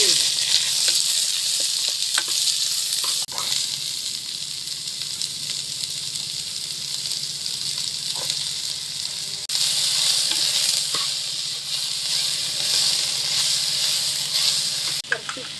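Onions sizzle steadily in hot coconut oil left from roasting grated coconut, a continuous close frying hiss with occasional stirring clatters and scrapes throughout.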